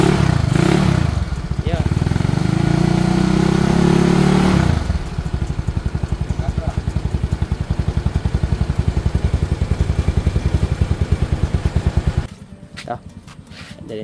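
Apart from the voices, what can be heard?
motorcycle engine revving while warming up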